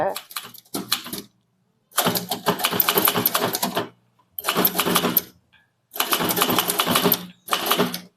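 A typewriter types Tamil text in a senior-level typewriting exercise. Bursts of rapid key strikes and clacks come up close in several runs, separated by short silent pauses.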